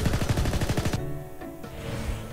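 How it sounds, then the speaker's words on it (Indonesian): Rapid pistol fire in the anime shooter game Gun x Dimension, a fast burst of sharp shots for about a second before it cuts to quieter game sound. "Nembak pakai pistol lucu."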